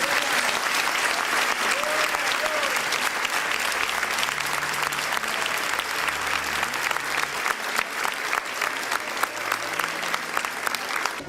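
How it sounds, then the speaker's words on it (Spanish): A church congregation claps loudly and steadily, a dense continuous applause for the Lord that fills the room for the whole stretch, with faint low tones and voices beneath. "Pido a los hermanos un aplauso fuerte al Señor."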